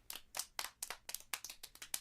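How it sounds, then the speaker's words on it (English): Sparse clapping from a small audience in the video game Steins;Gate, about ten separate hand claps in an uneven rhythm, fairly close and alone, with no cheering. "Dr. Nakabachi enters to sparse applause."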